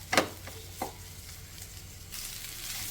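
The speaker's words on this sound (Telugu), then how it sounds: "ఇప్పుడు ఈ వెల్లుల్లి వేసిన తర్వాత 1 నిమిషం ఫ్రై చేసేసుకోవాలి." Crushed garlic frying with green beans in a pan: a steady soft sizzle with a couple of sharp clinks of stirring near the start, the frying hiss growing louder and denser toward the end.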